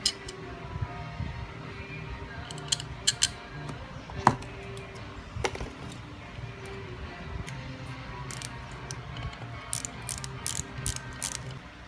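Ratcheting clicks from tightening the top bolts on a Carter Edelbrock carburetor during a rebuild, sounding as rapid bursts of close metallic ticks at irregular intervals over a low steady background hum.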